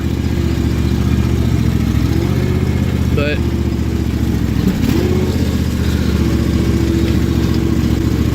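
A 2016 John Deere X570 lawn tractor engine idles steadily while warming up, a continuous close low rumble with a brief word spoken over it partway through.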